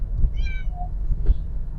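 A particular house cat meows inside a car, a short rising-and-falling cry followed by a fainter second mew over a low road rumble.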